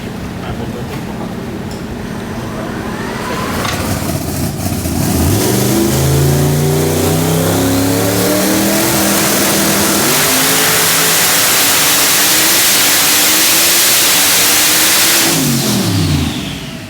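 A Jeff Lutz Street Outlaws drag car on a hub dyno, its engine revving hard and climbing steadily to a loud sustained high-rpm roar before backing off, close and without speech.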